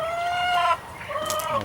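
Chickens in a grow-out pen on a small quail-keeping setup cluck and call nearby, with a sustained squawk breaking into softer clucks.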